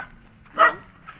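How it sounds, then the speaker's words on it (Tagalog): One dog guarding a small hut in a rice field area gives a single short bark, close and clear, followed by a faint yip against a quiet background. "Yung mga aso na ito po yung bantay nila."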